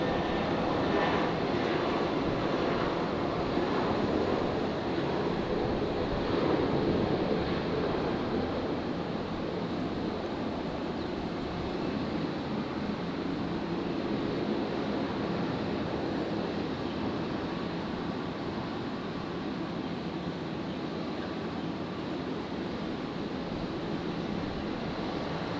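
A passing airliner near Brisbane Airport gives a continuous broad jet roar at moderate distance, fairly even in loudness and alone without talk, fading slightly as it goes by.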